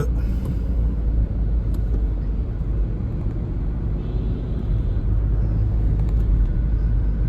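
A car cruising in fourth gear after several kilometres of driving gives a steady, continuous low engine and road rumble that stays close and even throughout, with no talk over it.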